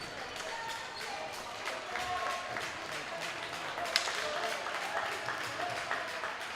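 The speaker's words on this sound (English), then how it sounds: "Czech fans right down below us, all standing and clapping in unison." Czech fans stand and clap in unison at a U18 world junior ball hockey game, a steady wash of crowd applause that carries through the whole stretch with a few sharper claps poking out.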